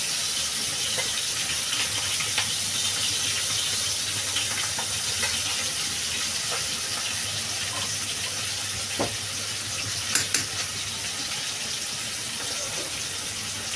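Water lily stems with prawns tipped into a hot pan give a steady, dense sizzling hiss that holds throughout, with a few small crackles and pops near the end.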